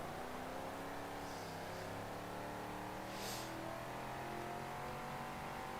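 A race car in Forza Motorsport 7 drives a time-trial lap, its engine droning steadily with shifting harmonic tones and a brief tire screech midway, faint and continuous without speech.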